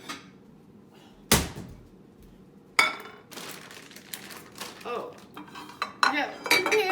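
Metal pans clatter and clank against each other and a hard surface, with several sharp knocks and scraping handling noises, close by, while cooking enchiladas.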